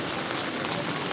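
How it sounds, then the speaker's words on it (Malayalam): Heavy monsoon rain pours down steadily in Nepal, producing a dense, loud, unbroken hiss of drops striking surfaces that fills the whole moment with no pause. "എന്തായാലും പെരും മഴ കേട്ടോ"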